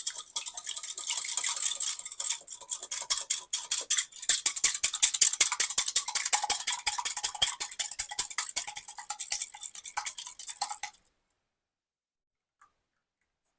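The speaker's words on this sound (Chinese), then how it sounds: "我们搅拌一下。" Eggs stirred briskly in a bowl, a fast rhythmic run of light clinking and tapping strokes for about eleven seconds, close and alone, then silence.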